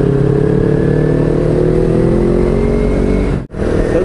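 A motorcycle engine roars loudly up close with a droning, shifting pitch as it rides along, then briefly cuts out near the end before returning.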